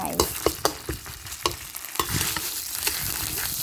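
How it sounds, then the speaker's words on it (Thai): Curry paste sizzles in hot oil in a pan as a utensil scrapes and stirs in quick, irregular strokes, the frying hiss building and staying steady toward the end. "ใส่พริกลงไปผัดนะคะพริกแกงนะใส่พริกแกงลงไปผัด"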